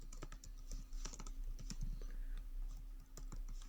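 Quiet, close typing on a computer keyboard while writing JavaScript code, a quick irregular patter of key clicks with a few heavier strokes.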